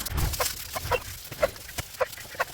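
Free-ranging backyard chickens let out in the early morning give a series of short, moderately loud clucks in an irregular rhythm, about five distinct calls close by with no talking.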